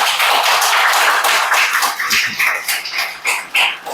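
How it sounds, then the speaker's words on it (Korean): A forum audience clapping steadily at close range, a dense patter of hands that thins slightly toward the end, with no voices over it. "그 말에 여러분 동의하시면 큰 박수 부탁합니다"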